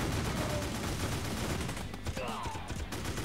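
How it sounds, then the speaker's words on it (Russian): Artillery and machine gun fire in the war strategy game Crisis, a dense, continuous rattle of gunfire and distant blasts, steady and fairly loud throughout. "Ну что ж, артиллерия стреляет, пулеметчики прикрывают"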